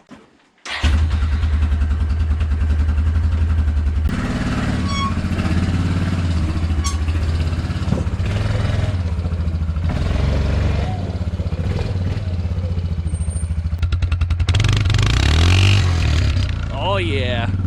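A four-wheeler's engine cranks and starts at a campsite, then runs and revs steadily at close range for most of the stretch, with voices speaking over it.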